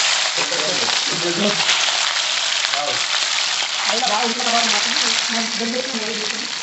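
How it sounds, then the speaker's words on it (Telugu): Chicken dropped straight into hot tempering oil for a traditional Lambada dish, sizzling and frying loudly and continuously up close, with a voice talking underneath. "ఫస్ట్ డైరెక్ట్ చికెన్ వేయాలి పోపు"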